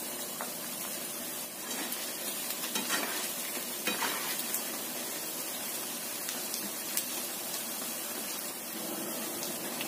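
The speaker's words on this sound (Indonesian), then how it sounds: "Goreng sampai kuning keemasan, semuanya wajan aja gorengnya." Tofu deep-fries in a wok to golden brown, a steady dense sizzle and crackle with occasional light scrapes of a utensil turning the pieces.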